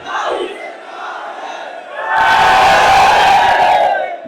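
A large crowd roars a rising battle cry in unison, a swelling chant that jumps sharply louder halfway through and stays sustained to the end.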